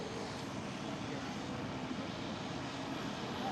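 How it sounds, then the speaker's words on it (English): An Aer Lingus airliner arrives at the gate at Schiphol, its engines giving a steady, even broadband roar that holds unchanged for a few seconds, fairly close with no talk. "There's the Aer Lingus arriving at the gate."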